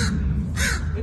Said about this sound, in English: look how pretty the crow is.